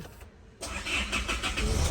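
Engine of a 2019 Isuzu D-Max Hilander Cab4 3.0 Z-Prestige pickup starting by push button, a short crank catching about halfway through and settling into a steady, loud idle with no talk.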